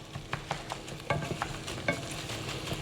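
Lean ground chicken fries in a little olive oil, a close, steady sizzle broken by regular scraping and stirring strokes as it is crumbled.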